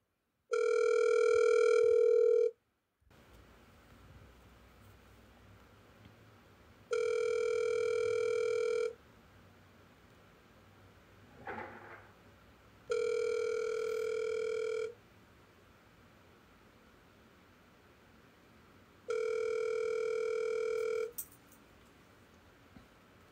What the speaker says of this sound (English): Hold on, let's call 1 more time.